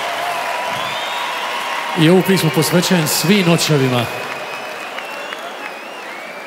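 Concert crowd at Arena Zagreb bursts into loud applause and cheering for about two seconds, then fades back to an ambient hall murmur while someone speaks over the music and crowd.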